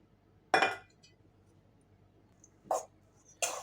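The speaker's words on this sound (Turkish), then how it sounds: "Şu şekilde karıştırıyorum" A spoon stirring sauce into kısır, a Turkish bulgur salad, in a bowl, giving three sharp, separate clinks in an otherwise quiet room.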